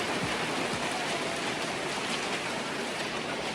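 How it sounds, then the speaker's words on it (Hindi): Heavy rain with hailstones pelting down during a pilgrimage trek, a dense, steady roar of drops and scattered harder impacts filling the whole stretch with no voices. "अचानक बादलों ने अपना रंग बदल लिया और देखते ही देखते तेज बारिश के साथ आसमान से ओले भी गिरने लगे।"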